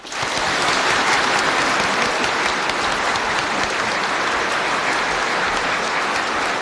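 Dense, sustained applause from a large audience at Fudan University in 1984 welcoming President Reagan, a steady roar of many hands clapping at full loudness throughout without a break.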